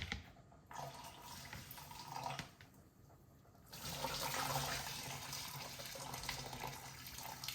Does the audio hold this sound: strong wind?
no